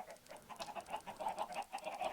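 Chickens in Minecraft give a steady run of soft, rhythmic clucks, close and fairly quiet, with no voices over them.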